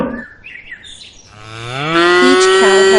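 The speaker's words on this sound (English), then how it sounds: "Each cow has a distinctive sound that other cows can recognize." A cow gives one long, loud moo that rises and holds at close range, after a few faint bird chirps at the start.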